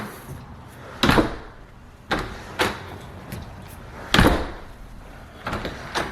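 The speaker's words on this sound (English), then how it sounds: "Door is closing." A newly installed exterior replacement door is opened and shut several times, each closing landing as a sharp, loud thud with a brief rattle, spaced a second or two apart and close by.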